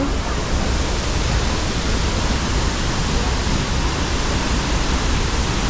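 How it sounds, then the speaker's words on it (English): Tegenungan waterfall in Bali pours as a steady, dense broadband roar, loud and unbroken throughout with no voices over it. "We have come down to the waterfall, the Tegenungan waterfall, and here's the view."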